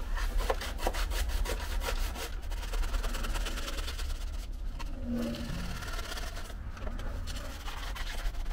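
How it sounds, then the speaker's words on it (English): A hacksaw blade trimming expandable foam, rapid back-and-forth rasping strokes repeating in a quick, steady rhythm close up, with a low hum underneath. "I just took a hacksaw blade and I got a straight edge"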